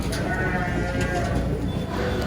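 Garut sheep bleat at the Tanjungsari livestock market in Sumedang, with steady crowd noise and nearby talk throughout.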